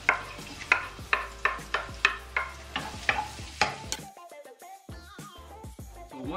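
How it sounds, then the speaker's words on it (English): Onion, garlic and ginger cooking in hot oil for an Indian dahl curry, heard as a run of rhythmic stirring scrapes over a soft sizzle, close by and without talk. "we're going to go in with our first three ingredients, the onion, the garlic and the ginger. So in they go. You should hear it sizzle straight away."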